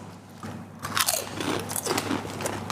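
Someone bites into a crunchy, cheesy Parmesan snack, a sharp crunch followed by a burst of close, loud crackly chewing with no talking.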